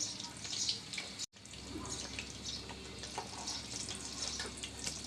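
A small Mughlai egg paratha fries in oil in a pan on low heat, producing a steady, soft sizzle and crackle close by, briefly cut off for a moment, otherwise continuous with no talk.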